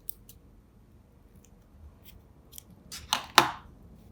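Scissors snip through crochet yarn, a few soft, brief cuts building to two louder crisp snips near the end, close by in a quiet room.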